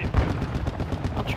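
Enemy gunfire in the shooter game Call of Duty DMZ on the Ashika map, rapid close bursts of automatic fire crackling through a short stretch, with a faint voice in the background.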